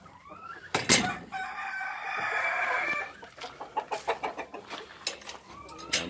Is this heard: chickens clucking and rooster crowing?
yes